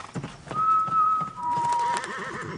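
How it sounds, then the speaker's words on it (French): A horse named Sirius whinnies close by, a loud, wavering neigh that rises and trembles in pitch over about two seconds, with a few soft hoof or movement sounds before it. "T'es un bon cheval."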